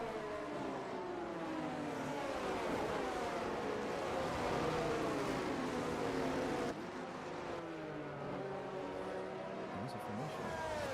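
Race cars running a formation lap in a racing video game, a steady blended engine drone with rising and falling revs from several cars, heard under continuous talk.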